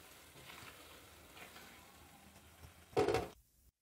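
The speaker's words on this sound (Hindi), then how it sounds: "हम डालेंगे बादाम, पिस्ते और काजू।" Almonds, pistachios and cashews tipped into a pan of atta halwa, giving a brief loud sizzle and frying crackle after a quiet stir, then cutting to silence.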